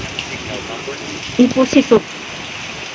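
Heavy rain from Typhoon Aghon pours down in Masbate, a steady, close hiss of rainfall throughout, with someone briefly speaking a few short words over it.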